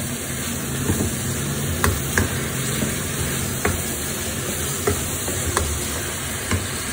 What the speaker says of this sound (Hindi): बस प्याज को अच्छी तरह से भूनूंगी